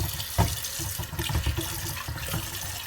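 Cold tap water running from a faucet onto saltfish in a sink, a steady close splashing flow with a few louder knocks and clatters, and no talk.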